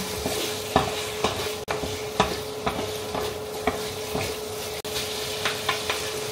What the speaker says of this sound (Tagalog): Okay, add ko na yung ating marinated chicken. Ilagay na natin.